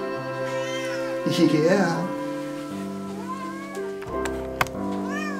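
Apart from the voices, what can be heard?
cat meowing, a little kitty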